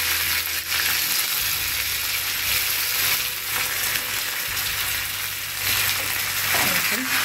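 Mustard seeds and curry leaves dropped into hot oil, giving a loud, steady, close sizzle that fills the whole stretch, with faint stirring underneath.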